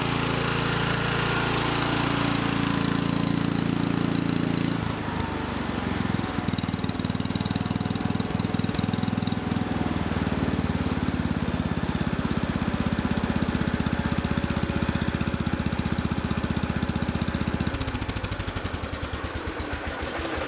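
A John Deere 140 garden tractor runs a belt-driven Pincor generator, its engine droning steadily and loudly throughout, with a slightly loose belt adding a rough, uneven flutter over the continuous hum.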